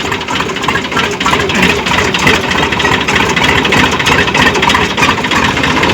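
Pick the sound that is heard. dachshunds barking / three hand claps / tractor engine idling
tractor engine idling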